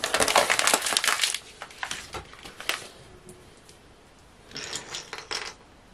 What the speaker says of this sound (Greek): θα βάλουμε 3 ποτήρια ζάχαρη.